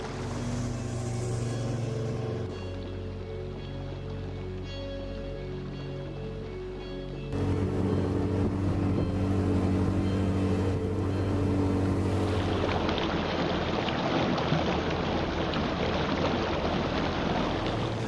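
A boat engine hums steadily while chasing a whale through rough waters, a continuous close drone that grows louder partway through and then gives way to broad rushing water and spray.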